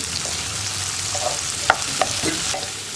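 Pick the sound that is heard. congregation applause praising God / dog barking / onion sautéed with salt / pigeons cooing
onion sautéed with salt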